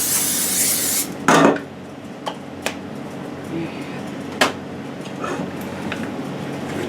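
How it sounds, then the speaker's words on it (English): A short hiss of cooking oil spray into a pan close up, followed by faint clinks and scraping of kitchenware in a quiet room. "I'm going to spray some cooking oil in there, keep it from sticking so bad."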